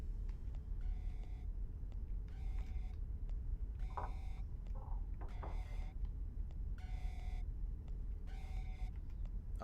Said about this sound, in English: I hear more alarms.